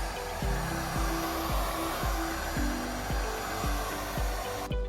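Heat gun warming both sides of a rear diffuser for a Porsche Cayman S 987.1: a steady, loud blowing whir with an even rhythmic pulsing throughout, cutting off abruptly at the end, no talking.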